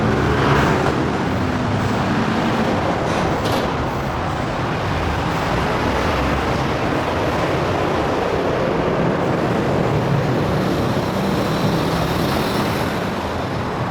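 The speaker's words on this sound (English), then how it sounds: "It's a bit noisy, the roads." Dense, steady motorway traffic in Kuala Lumpur near Sri Hartamas and Mont Kiara, a continuous loud roar of passing cars, buses and trucks with no pauses and no talking.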